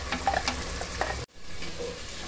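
Onions fry in oil in a pan for a tamarind fish curry, a close, steady sizzle with stirring scrapes, briefly cut off before resuming.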